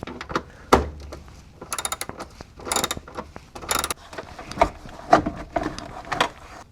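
A ratchet loosens bolts near the side brake of a light kei van, giving a series of rapid clicking bursts and metallic knocks, close up, with no voices.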